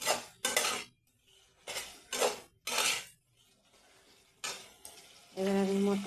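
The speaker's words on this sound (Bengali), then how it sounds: "হিং দিয়ে একটু নেড়ে চেড়ে" A metal spoon clatters and scrapes as it stirs potato and spices with asafoetida in a pan for Bengali cabbage chorchori, several sharp separate strokes with quiet gaps between them.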